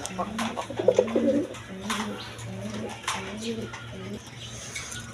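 Rajgolla pigeons cooing at a market stall where pigeons are sold, soft repeated coos close by over a steady low hum, with some background noise and a voice faintly present.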